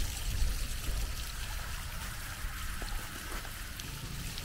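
Heavily mineralized hot spring water from the Ainsworth caves in Kaslo, British Columbia trickles and pours in a steady close stream, with no pauses and no voices.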